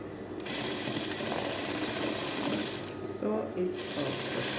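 A sewing machine stitching short trousers runs continuously and close, a steady mechanical whirr with a brief pause near the end, alone without talk.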